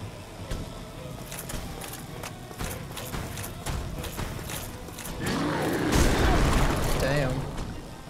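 Horse hooves in the video game Dark Souls: a run of sharp, evenly spaced clops, then a louder burst of heavier thuds and clatter with a voice briefly heard underneath.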